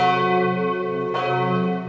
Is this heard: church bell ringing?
yes